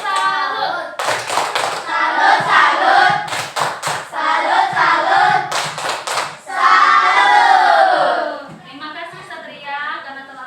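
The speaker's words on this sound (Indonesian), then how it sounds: "karena Satria telah menjawab pertanyaan kita kasih dulu tepuk salut" Primary schoolchildren in a sixth-grade science class do a rhythmic patterned clapping cheer, sharp bursts of claps alternating with chanting voices, fairly close and loud.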